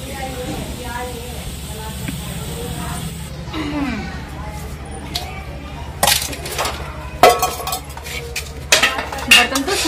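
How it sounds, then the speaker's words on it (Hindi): Dishes and utensils are washed by hand at home, with running water hissing, then clinks and clatters of steel pots and cutlery growing louder toward the end, under occasional talk. "अब मैं अपने बर्तन साफ कर दूं।"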